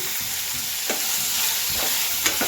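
Ingredients for pappu charu fried in a hot pan, a steady loud sizzle with a few scraping stirs of the spatula close by.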